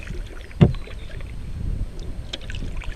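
Canoe paddling on a river in the Noosa Everglades, Australia: one sharp paddle splash near the start, then soft water lapping and faint wind noise along the bank, no talking.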